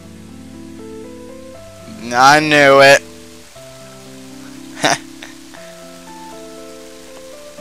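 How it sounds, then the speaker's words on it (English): Steady rain hiss in the video game Mother 3 sits faintly under stepped game music, with a short burst of vocal sound and a brief sharp noise partway through. "And now it started to rain."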